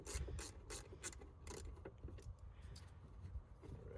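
A ratchet wrench removing bolts from the rear light of a Nissan Xterra, quick repeated clicking strokes in an uneven rhythm, close but faint.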